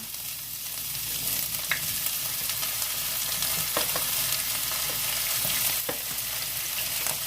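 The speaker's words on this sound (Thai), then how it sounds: "น้ำมันร้อนแล้วนะคะ ก็ใส่ลงไปเลย ใส่ทุกอย่างลงไปพร้อมกันหมดเลยนะคะ" Mixed vegetables for spring roll filling stir-frying in hot oil, a constant bright sizzle with occasional scrapes and stirring knocks, close and fairly steady.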